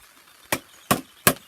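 Three hard, sharp taps on a gouge working into a wooden kuksa bowl to knock out its centre, evenly spaced and crisp against a quiet background.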